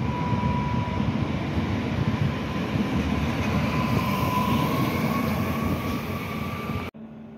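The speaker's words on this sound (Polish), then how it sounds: "I odjazd E78006 z Tarnowa do Krakowa Głównego." Electric passenger train E78006 pulling out of Tarnów station toward Kraków Główny, a loud steady rumble of wheels and rail noise with a faint whine, continuous and close throughout before cutting off abruptly near the end.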